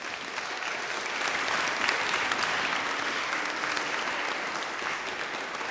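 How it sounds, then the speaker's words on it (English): Audience applause for a young people's orchestra at a schools Proms concert at St Jude's, a steady, dense wash of clapping that holds at an even level throughout, with no voices over it. "Big clap for them."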